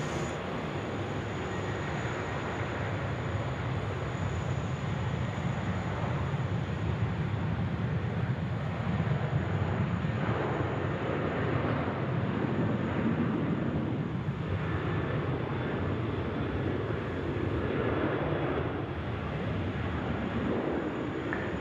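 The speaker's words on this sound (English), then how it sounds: "We've got a Velocity aircraft now going to Perth, 569." A Velocity airliner departing Sydney Airport at night for Perth, its jet engines producing a steady, loud broadband roar that holds for about twenty seconds with a slight swell midway, heard with no talking.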